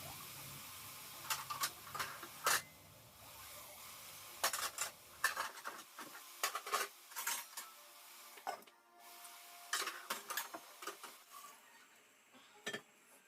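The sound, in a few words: stirring meat with spices in a cooking pot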